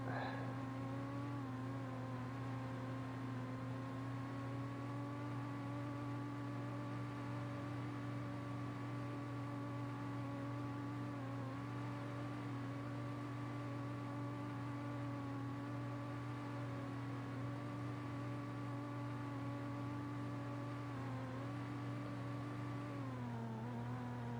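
A car engine in a video game holds a steady, droning whir with sustained harmonic tones, changing pitch slightly as the car drifts, continuous and fairly quiet throughout.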